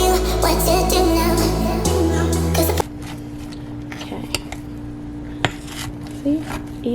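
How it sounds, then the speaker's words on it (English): Boiled potatoes being mashed in a pot, heard as scattered metallic clanks and scrapes of the masher against the pot, close and sharp, after background music cuts off partway through. "So, time for the mashing."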